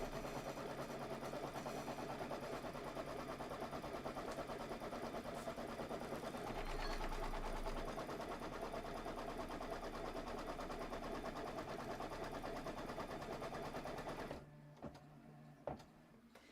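Close, steady machine whir of a sewing machine stitching a quilted table topper, running continuously for about fourteen seconds before cutting off, leaving faint room noise and a few small clicks.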